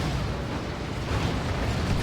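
A Space Marine plasma cannon blast in Warhammer 40,000: Dawn of War 2, a dense sustained rumbling roar of explosive noise lasting about two seconds with no distinct separate hits.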